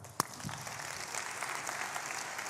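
Quiet clapping from a small group on a talk show, opening with one sharp close clap and then settling into faint, steady applause that runs to the end.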